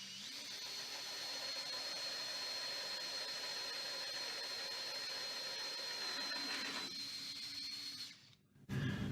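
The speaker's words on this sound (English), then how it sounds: "whilst you're drilling that, the surface itself should be fully supported on a scrap piece of material" Power drill boring into a 12mm Spectra Slim Edge worktop surface held on scrap backing, a steady loud whine running continuously for about eight seconds before cutting out abruptly near the end.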